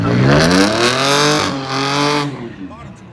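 A drag racing car's engine revs hard at a drag strip, loud and close, with a harsh rising and falling roar across several seconds before it cuts off, while a voice can be heard faintly underneath.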